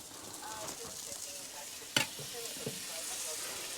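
Food frying in butter in a pan, a soft steady sizzle with quiet scrapes and one sharp knock of a utensil against the pan.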